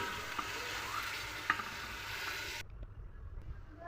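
Rice is tipped into a pan of softened onions, giving a close, steady frying sizzle with a few scraping stirs, before the sizzle drops off abruptly to a quieter, softer bubbling.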